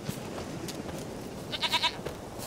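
Goat bleating in The Witcher 3, a short run of three or four quavering bleats close by over a low game ambience with background noise.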